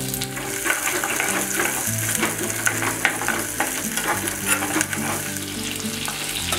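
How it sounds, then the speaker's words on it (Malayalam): Green chilli, garlic, ginger and mango sauté in a hot pan for a Kerala sardine curry, a dense continuous sizzle with frequent scraping and clatter from stirring, no voices. "അതിനുശേഷം പച്ചമുളക്, വെളുത്തുള്ളി, ഇഞ്ചി, മാങ്ങ ഇത് ഇത്രയിട്ട് വഴറ്റുക."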